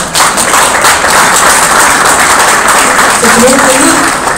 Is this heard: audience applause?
yes